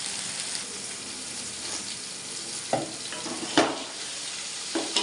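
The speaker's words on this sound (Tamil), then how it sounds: "தக்காளி வெங்காயம் எல்லாமே நல்லா வதங்கி வந்துருச்சு பாருங்கள்" Tomatoes and onions sauté in a pan with a constant soft sizzle, broken by a few clear scraping stirs of a utensil and no voices.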